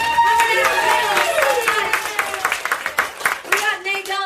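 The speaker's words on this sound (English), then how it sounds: "Give yourselves a big round of applause." A live game-show audience at a theatre claps and cheers in a sustained burst of applause, with whoops rising over it and a host's voice speaking on top.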